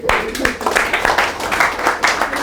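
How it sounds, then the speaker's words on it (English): A sales training audience claps briefly, a dense burst of close, fairly loud hand clapping that stays steady for a couple of seconds before fading. "Give them a round of applause."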